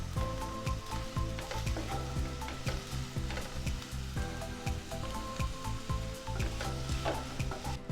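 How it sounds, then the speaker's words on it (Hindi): Chopped onion frying in hot oil in a pan for an idli sambar, a loud, steady sizzle with busy crackling and the scrape of stirring throughout, no talk. "तेल गरम होते ही इसमें हम प्याज डाल देंगे"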